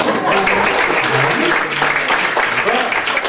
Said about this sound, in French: On va applaudir, ça fait plaisir.